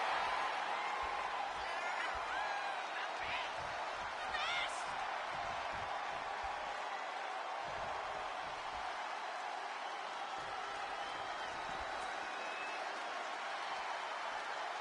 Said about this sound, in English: Cole Quinn getting the crowd riled up right now